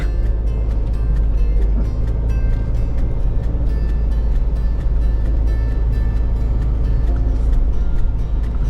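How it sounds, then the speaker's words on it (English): Diesel engine of a 2024 Isuzu MU-X LSE 4x2 SUV heard from inside the cabin while driving, a steady low drone with broadband road rumble, continuous and moderately loud with no talking. "the engine is more audible here in the cabin than on the Ford Everest. It's not noisy, but you can definitely tell that you're driving a diesel."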